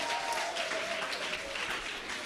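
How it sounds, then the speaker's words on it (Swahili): Dense, sustained applause from a church youth seminar crowd clapping for the Holy Spirit, loud and close, rolling steadily throughout with a faint tonal hum beneath. "Pigieni Roho Mtakatifu makofi"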